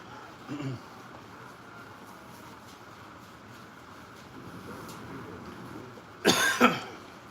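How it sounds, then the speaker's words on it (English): A brief cough early on, then a louder, harsher fit of allergy coughing near the end, close by over a low steady background hum. "Sorry guys, I've got a bad cough."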